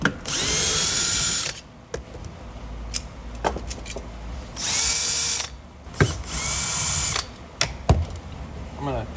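Power drill backs Torx bolts out of a Stihl MS661 chainsaw in three loud, whining bursts of a few seconds each, separated by quiet gaps with small clicks and handling clatter.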